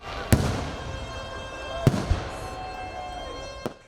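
Fireworks bang sharply a few times at a distance during Groundhog Day festivities, echoing over a steady crowd murmur.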